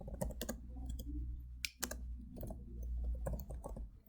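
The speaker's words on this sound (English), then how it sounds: "we will type the words keep active" Keys clatter on a computer keyboard as the words for a poster are typed, with quick irregular clicks in short bursts over a low steady room hum.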